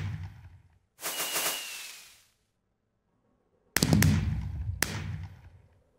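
Minecraft fireworks go off in two bursts: a crackling launch with a whistle, then a gap of silence and a louder round of sharp bangs and crackles, close and with no voices.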